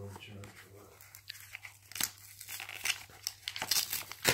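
A greeting card envelope is ripped and crinkled open in a series of sharp tearing and rustling bursts, with people talking over it indoors.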